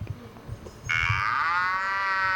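A single long cow moo rises after a short stretch of quiet low background noise and holds steady until the end, fairly loud and close, with no talking.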